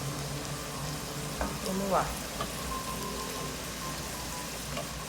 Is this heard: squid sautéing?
yes